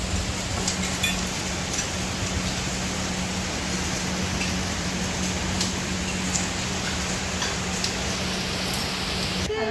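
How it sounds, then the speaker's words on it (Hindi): Steady, heavy rain pours down in a dense, continuous hiss with a low constant hum underneath and no voices. "बारिश देखो कितनी तेज होने लगी है।"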